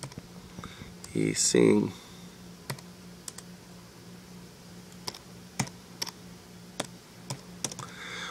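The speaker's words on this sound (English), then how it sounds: "If you type in e-singularity, I'll type it in here." Computer keyboard typing: a few quick keystroke clusters, then scattered individual clicks spaced out over several seconds, near and fairly quiet, with a brief spoken word at the start.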